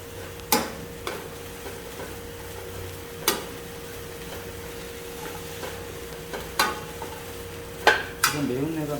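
Chili paste stir-frying in a pot for Korean sundubu jjigae, a low steady sizzle broken by scattered sharp clanks and scrapes of a utensil against metal, close and fairly quiet.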